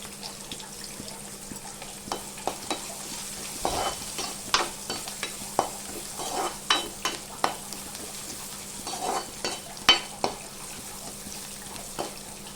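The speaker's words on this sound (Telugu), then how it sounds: "ఎర్రగడ్డలు అయితే వేగిపోయాయి" Onions frying with turmeric and salt for fish curry, a soft steady sizzle with irregular scraping and tapping of a spoon in the pan, quiet and close.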